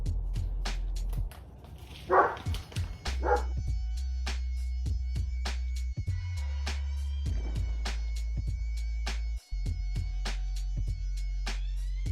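A dog yips and barks indoors during seed starting over a steady low hum, with occasional sharp taps and clicks scattered throughout.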